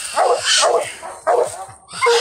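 Coon hunting dogs barking up a tree at night, including a brood female out of shape, give a few close, strained yelps and whining barks in short bursts with brief gaps.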